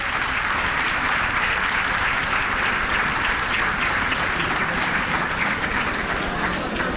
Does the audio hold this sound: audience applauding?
yes